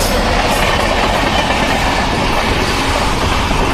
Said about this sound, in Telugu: ఇంకో ట్రైన్